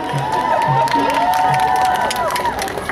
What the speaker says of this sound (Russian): Давайте еще раз, вашими аплодисментами поддержим.